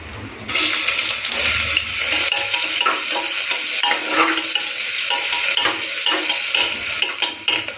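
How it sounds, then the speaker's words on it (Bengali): Steady sizzling of chopped onion and garlic frying in a pan, with scraping stirs and clatter throughout; loud and close, no talking. "পেঁয়াজ রসুনটা ভাজা ভাজা করে নিয়েছি"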